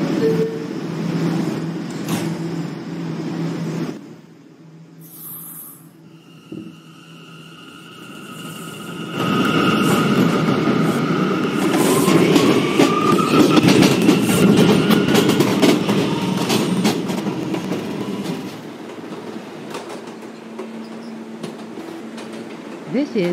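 A Manhattan-bound F Express subway train rumbles and rattles as it pulls away from 21st Street–Queensbridge station, the roar building and holding steady with clacking wheels and a high metallic whine over it.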